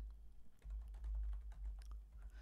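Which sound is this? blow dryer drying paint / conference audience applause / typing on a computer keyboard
typing on a computer keyboard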